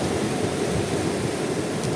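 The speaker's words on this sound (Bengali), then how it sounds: "এই সাগরের ঢেউটা পাথরে বাড়ি খাইতেছে" Sea waves crash against rocks on the beach at Cox's Bazar, a continuous, dense rush of surf with no pauses, heard close and loud.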